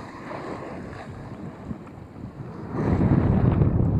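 Wind buffets the microphone at a coastal fishing spot on the Lamongan shore, a rough, gusty rumble that swells louder toward the end, with no voices.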